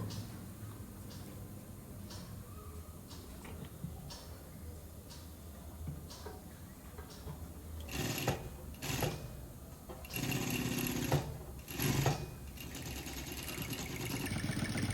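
Sewing machine stitching fabric as a home alternative to an overlock, with a steady mechanical whir and faint ticking, then louder bursts of fast running around the middle and end, heard alone without talk.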